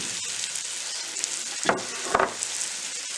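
Peppers going into a hot pan for beer cheese soup, a steady close sizzle and fry with a couple of louder crackling bursts as they hit the oil.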